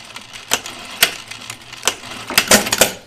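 A home sewing machine stitches the turned-under hem of a skirt in short bursts, giving sharp mechanical clacks and rattles spaced unevenly, loud and close.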